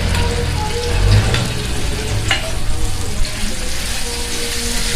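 A fine batter mixture is dropped into hot oil in a pan and fries with a loud, close, continuous sizzle, broken by a few bubbling bursts and stirring clicks, with no voices.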